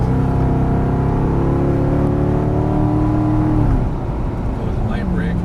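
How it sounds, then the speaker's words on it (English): A Chevrolet Corvette Stingray engine drones loud and steady under full throttle from inside the cabin, its pitch climbing gradually before easing off as the car lifts; a voice is heard over it. "Go and floor it through here."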